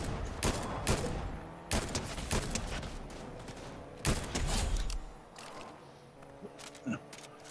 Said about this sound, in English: People are shooting at me.